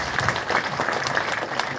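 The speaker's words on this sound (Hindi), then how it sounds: "इनके लिए जोरदार तालियां भाई।" A large audience at a speech in Patna bursts into dense, sustained applause for the professors, a continuous roar of many hands clapping.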